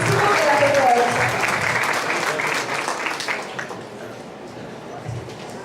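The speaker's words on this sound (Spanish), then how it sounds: "quiero que recibamos con un fuerte aplauso" Audience applause for a speaker at a property management seminar, steady crowd clapping filling the room for several seconds before thinning slightly, with some voices mixed in.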